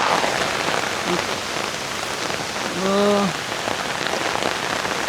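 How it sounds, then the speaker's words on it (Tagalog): Steady, dense heavy rain pours down throughout at a farm resort campsite in Bulacan, a constant hiss of drops on a surface, with a brief tonal squeak partway through. "Biglang yung buhos ng ulan."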